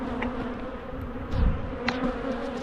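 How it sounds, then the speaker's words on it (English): Bees swarm at an apiary disturbed during hive maintenance, a dense, close, continuous buzz with individual insects swelling louder as they pass near. "Angering the bees many of the time."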